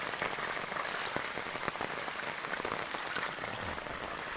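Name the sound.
rain falling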